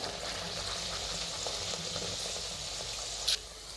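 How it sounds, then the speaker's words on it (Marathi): Puris frying in hot oil, a continuous close sizzle and bubbling hiss at moderate volume, with a brief sharper splutter near the end. "असं दोन्ही साईडनं छान अशी तळून घ्यायची बघा पुरी"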